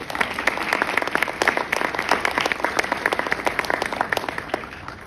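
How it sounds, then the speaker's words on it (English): Audience of several hundred at a conference on poverty applauding: a steady, even wash of many hands clapping throughout, moderately distant, with a faint crowd murmur and no clear speech. "Give yourselves a round of applause."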